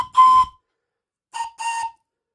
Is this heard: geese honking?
no